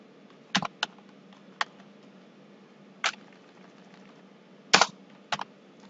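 Keystrokes on a computer keyboard, a few scattered taps and short bursts with pauses between them, close and fairly quiet, with no talking.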